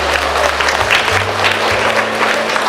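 A crowd claps steadily through a round of applause, with a low steady hum running underneath.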